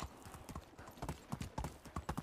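Horse hooves clip-clopping in the medieval survival game Medieval Dynasty, a steady walking rhythm of close, crisp hoof strikes with no talk over them.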